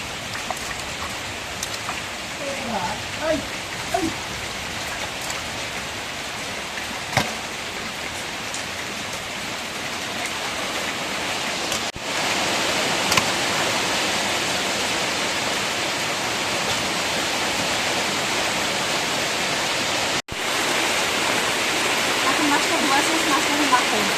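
Heavy rain pours steadily as a dense, continuous hiss that grows slightly louder partway through, with no clear talk.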